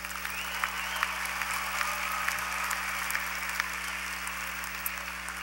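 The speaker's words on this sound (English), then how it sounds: "Let's applaud our College of Business graduates." A graduation ceremony audience applauds the College of Business graduates, a broad, even stretch of clapping heard somewhat distantly over a steady low electrical hum from the venue's sound system.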